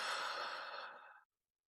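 A single deep breath let out slowly during a guided breathing exercise at a Lughnasadh ritual, a soft, airy sigh-like exhale lasting about a second before falling into silence.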